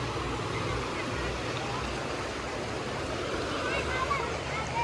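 A river rushes in a steady, broad wash of flowing water, constant and moderately loud for the whole stretch with no breaks.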